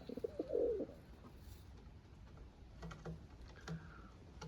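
Pigeons in a dovecote give one soft, low cooing burst near the start, then faint scattered coos and light rustling in a quiet setting.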